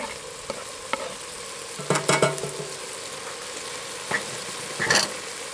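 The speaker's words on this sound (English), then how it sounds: "I give it a stir." Chunky chopped garlic and parsley fry in a pan for a rustic artichoke and broad bean pasta, a steady low sizzle broken by a few brief scraping stirs and utensil clinks, with no talking.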